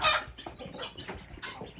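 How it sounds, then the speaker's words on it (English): Chickens cluck close by in a coop, a quick run of short throaty calls in an uneven rhythm, fairly faint, with one louder, higher squawk at the start. "What's the matter with you, chicken?"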